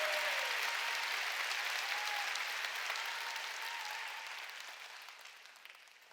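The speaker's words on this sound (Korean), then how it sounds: "깨달아서 박수 좀 세게 치라고 하나님께" Church congregation applauding during a Sunday worship service, steady dense clapping from many hands that gradually fades over several seconds.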